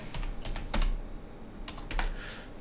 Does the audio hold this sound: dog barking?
no